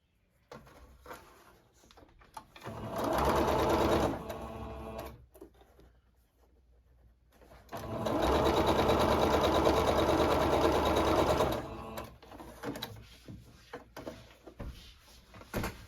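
A sewing machine stitches a quilt block directly onto backing and batting in two close, steady bursts of rapid needle chatter, the second one longer. Quiet pauses and soft fabric handling fall between and after the bursts.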